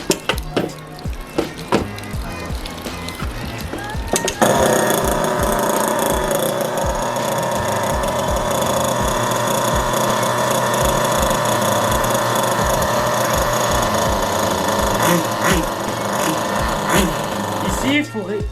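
A Kyosho Inferno Neo nitro RC car engine sputters through a few rough attempts, then catches and screams continuously at high pitch up close, with brief throttle changes near the end.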